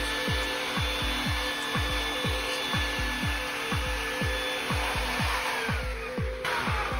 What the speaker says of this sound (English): So we're gonna inflate with a vacuum.